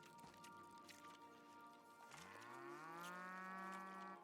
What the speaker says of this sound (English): where did we get the woolly cows?